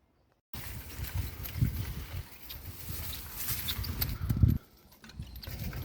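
Horses walking with uneven clip-clop hoofbeats, fairly close and moderately loud, with a brief thud-heavy burst before the sound drops away near the end.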